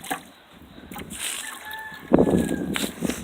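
Water sloshes and splashes while grass is watered outdoors at a barn, in uneven bursts with a heavier splash partway through and soft background sounds between.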